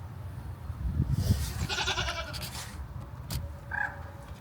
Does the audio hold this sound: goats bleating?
yes